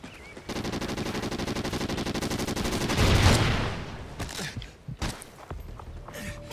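Rapid automatic fire from the player's gun in a first-person shooter game rattles continuously for about three seconds, then gives way to a few scattered shots and clatter, moderately loud.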